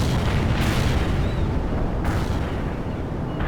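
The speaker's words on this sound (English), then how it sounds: "Artillery taking heavy fire." Artillery fire and explosions in the war video game World in Conflict, a dense continuous rumble of booms and blasts with two sharper bursts standing out near the start and midway, loud and unbroken throughout.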